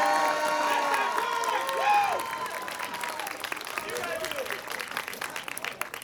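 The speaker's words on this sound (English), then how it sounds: "another big round of applause for your faculty and staff who had to put up with you every day" A graduation audience for the HTHNC Class of 2022 bursts into loud applause and cheering, with shouts and whoops over dense clapping that eases after a couple of seconds and continues more thinly to the end.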